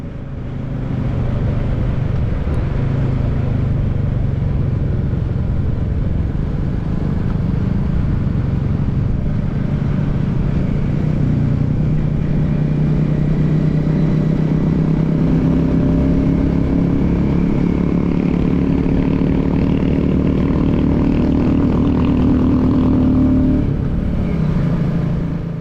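Several Royal Enfield motorcycles ridden together, their engines giving a steady, loud, close-up drone with slight shifts in pitch as the throttle changes, continuing without pause and without voices.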